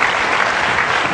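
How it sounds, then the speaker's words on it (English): Audience applause rising as a couple heads back to their seats at a real estate listing presentation; dense, steady clapping throughout, loud and close, with no pauses. "let's give them a thunderous round of applause"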